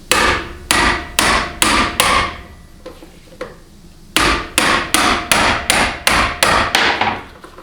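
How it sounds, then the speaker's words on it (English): A manual impact driver struck repeatedly with a hammer to loosen bolts deep inside a 4L60E transmission case, giving loud, evenly spaced metallic blows in two bursts separated by a brief quieter pause. "a manual impact driver to take loose all these bolts"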